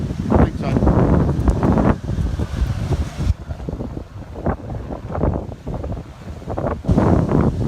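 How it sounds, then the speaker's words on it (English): Strong wind buffets the microphone at a lakeside holiday park, a loud, roaring rumble that surges and eases in gusts throughout, with people talking faintly underneath. "this wind here is pretty strong"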